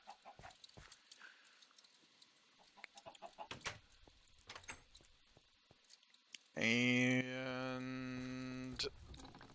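Chickens in the Minecraft video game cluck in a loud synthetic burst near the end, preceded by scattered clicks and tapping.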